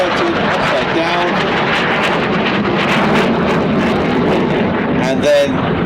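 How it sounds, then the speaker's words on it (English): An RAF Typhoon jet flies aerobatics at the Blackpool Airshow, its engine roar loud and continuous throughout while a commentator speaks over it. "So he's pitching the aircraft into knife edge"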